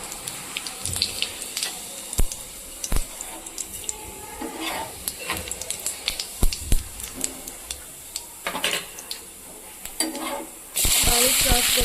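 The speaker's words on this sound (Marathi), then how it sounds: "इथं मी कढाई गरम करायला ठेवली आहे. इथं मी जिरं टाकते आहे." Cumin seeds crackling in a hot kadhai, then finely chopped onions frying for Kolhapuri-style shev bhaji: a close, steady sizzle broken by sharp ticks and clanks of stirring, ending in a louder, denser hiss.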